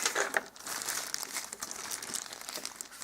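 Thin plastic bag crinkling and rustling steadily at close range while a Xiaomi Youpin Kiss Kiss Fish portable smart vacuum thermos is unboxed.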